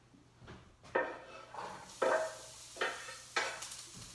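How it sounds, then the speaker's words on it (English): Onions for ratatouille hitting a hot pan and sizzling, with several bursts of crackle and stirring scrapes recurring roughly every half second to second, close and fairly loud with no talking. "You can hear that sizzle."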